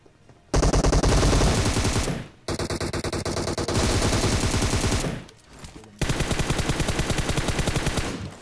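Sustained automatic gunfire from a firefight in the BGMI battle royale video game, loud and close, with long rapid bursts broken by brief pauses, and no voices over it.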